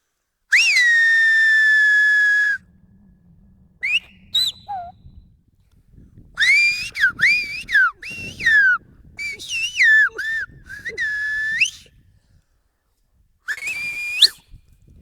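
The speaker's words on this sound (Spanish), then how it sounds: "Les está explicando que es un nombre muy complicado de entender mediante el silbo." Silbo Gomero, the whistled language of La Gomera, sounds as loud, piercing whistles close by: one long held tone, then rapid gliding, rising and falling phrases in bursts, separated by quieter gaps with faint background sounds.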